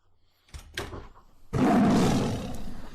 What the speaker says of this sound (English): And also I'll throw like a tiger growl in there.